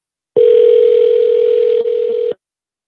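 A telephone line gives a loud, steady dial tone as a call is being placed, holding for about two seconds with a brief click partway through before it stops abruptly.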